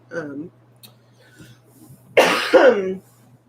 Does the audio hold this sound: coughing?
yes